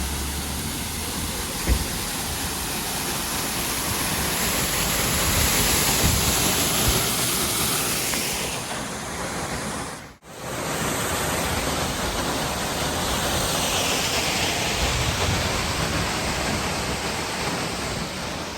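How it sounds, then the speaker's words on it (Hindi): Steady, loud roar of a roadside waterfall tumbling from high above on a mountain road, broadband rushing water filling the whole span, with a brief dip partway through and no talking. "ये रोड साइड वाटरफॉल है"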